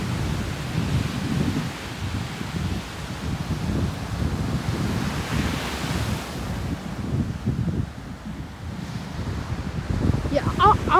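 Gusty wind at Belmar Beach roars steadily into the microphone with rumbling buffets and a surf-like wash, loud and continuous throughout, easing briefly near the end.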